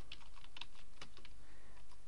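Someone types a search into a plugin search box on a computer keyboard, producing quick, light keystrokes in an irregular rhythm, close and fairly soft with no talking.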